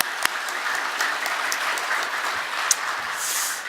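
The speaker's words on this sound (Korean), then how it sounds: "우리 하나님께 박수를 한번 드리고" Congregation applauding in a church during a Sunday afternoon service, a steady, dense wash of clapping hands that holds evenly throughout, with a couple of sharper individual claps standing out.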